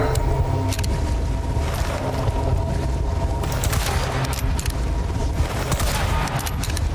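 Dense bursts of rapid gunfire and explosions in the video game Resident Evil 4 Remake, over a constant rumbling din, loud and continuous like a hectic shootout.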